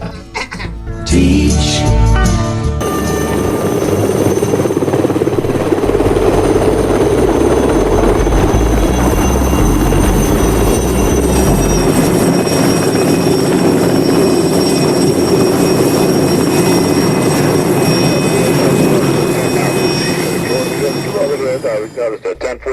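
A helicopter drones loudly and continuously, its engine and rotor roar dominating from start to end, with a brief burst of thumping at the start.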